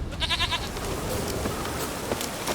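A goat bleats in the video game Witcher 3: a short run of rapid, wavering bleats near the start, then softer game ambience with faint thuds and clicks, no talk.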